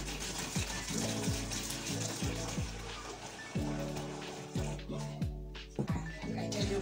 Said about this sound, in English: Let me add some water.